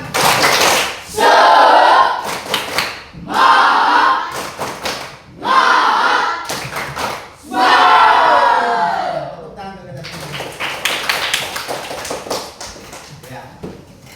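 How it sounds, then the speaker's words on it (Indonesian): A class performs a rhythmic spirit clapping chant, tepuk semangat, with bursts of group clapping and shouted chanting in a repeating pattern, loud and close, fading into scattered claps and voices. "sekali lagi sebelum kita tutup, tepuk semangat"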